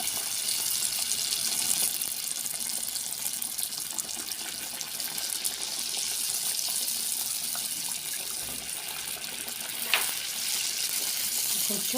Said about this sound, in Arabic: بعد ما حمى الزيت تاعنا نحطو بالحبه